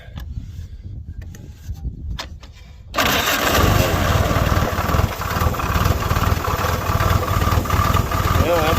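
A 1947 Willys Go Devil engine, idle for 12 to 15 years, cranks with a few faint clicks, then catches and runs loud and steady in a rough, rumbling idle close by.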